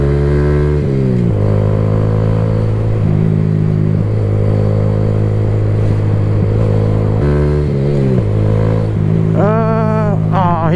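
A motorcycle engine runs steadily and loud throughout while riding, with pitch shifts as it accelerates and changes gear, and a rising whine near the end.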